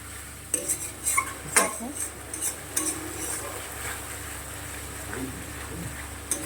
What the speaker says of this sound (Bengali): মশলাটা প্রায় কষানো হয়ে গেছে, আর বেশি কষাবো না।